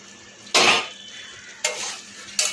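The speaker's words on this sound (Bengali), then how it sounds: "এঁচড়টা দিয়ে ভালো করে কষিয়ে নেব।" Young jackfruit is stirred and sautéed in a pot, with three sharp bursts of spatula scraping and sizzling against the metal, separated by quieter pauses.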